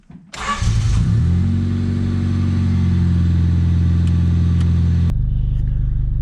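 A 1993 Honda Civic show car engine cranking and catching, then revving up and holding a loud, steady idle-rev close by before abruptly dropping back to a lower rumble near the end.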